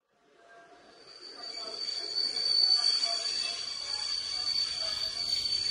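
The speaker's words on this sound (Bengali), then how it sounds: "ট্রেন এসে থামল অমরগড় স্টেশনে" A train pulls into a station as a sound effect in a spoken horror story. It rises from silence into a growing rumble with a high, sustained wheel squeal that peaks midway and stays loud as it slows.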